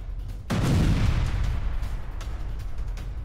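Hezbollah guided missile strike on a temporary IDF base, heard as a sudden heavy boom that swells into a loud, deep rumble and then slowly fades to a lingering roar.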